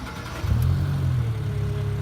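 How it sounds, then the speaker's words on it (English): A Toro 5800-G sprayer engine starts up, turning over briefly and then settling into a steady, fairly loud low idle rumble that runs on close by without speech. "To begin this process, we're going to start the sprayer."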